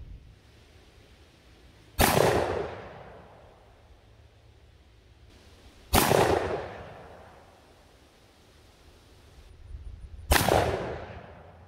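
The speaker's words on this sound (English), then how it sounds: "So let's go over here and shoot them and see how they perform." Shotgun firing Salt Creek Custom Twister 2.75-inch five-petal defensive slugs into water jugs outdoors: three loud, sharp blasts about four seconds apart, each with a fading echo tail, and no talking.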